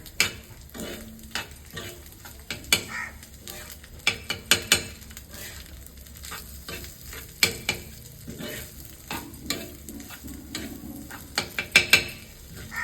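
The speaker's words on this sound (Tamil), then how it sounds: "இந்த முட்டையில் வந்து இந்த சாதத்தை நம்ம போட்டு பிசைஞ்சிடுவோம்" Cooked rice is mixed into beaten egg in a kadai, producing a run of scraping, clattering stirs and soft sizzle, with sharp utensil knocks bunching at intervals, close by and without speech.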